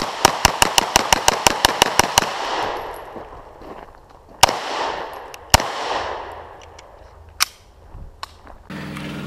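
A rapid string of about fourteen sharp shots from an HK P30 pistol fired in quick succession, followed by a few single, spaced shots with echoing decay, loud and close.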